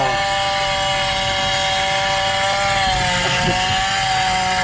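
A continuous loud chainsaw drone with a steady high whine, unbroken throughout and heard up close.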